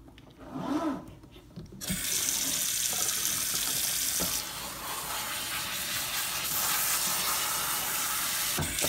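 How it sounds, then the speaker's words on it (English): Tap water runs while hair is rinsed, a loud steady gush that starts after a short moment of muffled rubbing and continues evenly with slight splashing changes. "Then we probably had to rinse our hair off again."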